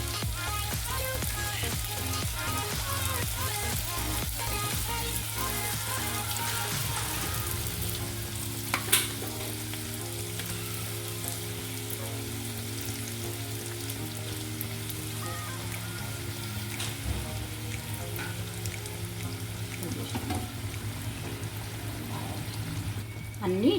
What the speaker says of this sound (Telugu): అన్నీ ఇట్లా ఫ్రై చేసుకోవాలండి.